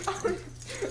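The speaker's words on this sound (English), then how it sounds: "this dog attacking this man in the pet toy costume" A dog snarls and yips playfully while going after a man dressed in a pet toy costume, short whimpery bursts close up over steady background noise.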